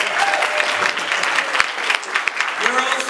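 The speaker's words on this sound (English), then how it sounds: "Give them a round of applause." An audience claps in a steady burst of applause at a live show, fairly close, with a voice briefly heard over the clapping.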